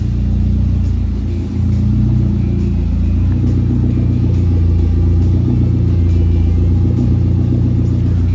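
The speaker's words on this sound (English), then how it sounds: "You can hear the exhaust." A 2005 Dodge Neon SRT-4 ACR engine idling steadily, its exhaust giving a loud, continuous low rumble close up with no talk.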